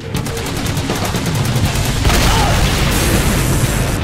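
Rapid gunfire crackles through a zombie shooter game, Men Of The Dead, a steady fusillade of shots with a heavier burst partway through, loud and continuous with no talk.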